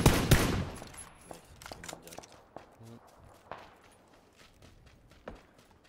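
Gunfire in PUBG, a loud close shot opening the clip, then scattered quieter distant shots and footsteps spread across several seconds.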